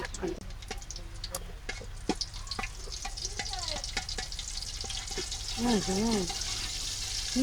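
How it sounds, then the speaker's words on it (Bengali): Ghee added to hot oil in a pot while cooking pulao for chicken biryani, a steady soft sizzle under a voice speaking throughout, with scattered clinks and stirring noises. "তেলের মধ্যে একটু ঘি দিয়ে দিলাম একদম এক নম্বর খাঁটি ঘি ঘি দিয়ে দিলাম"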